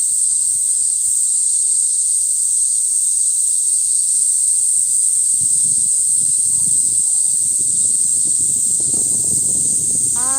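Loud cicadas in a Tokyo park fill the air with a steady, intense high-pitched drone that never lets up, while faint footsteps and soft rustling pass underneath.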